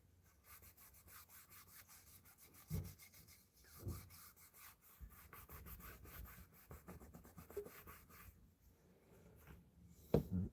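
Wooden back scratcher being sanded by hand in a home workshop, with quiet intermittent rubbing and scraping strokes and a few sharper knocks, close and fairly soft throughout.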